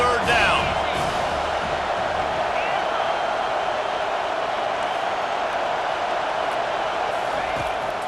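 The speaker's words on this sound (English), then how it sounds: "Decibels rising as the crowd gets behind this defense on 3rd down." A stadium crowd in College Football 25 keeps up a steady, dense roar of cheering on a third down, loud and unbroken for the whole stretch, with no clear breaks or single voices.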